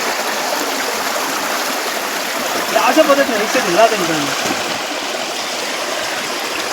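A village stream near a bamboo fish net in farm fields rushes as a continuous, fairly loud wash of flowing water, while someone talks over it in the middle.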